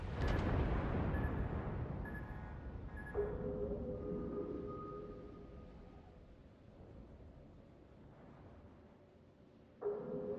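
Hydroacoustic search switching on in World of Warships, aboard the destroyer Leberecht Maass: a low rumbling burst followed by steady tonal sonar-like hums that hold, then a fresh tone cuts in near the end.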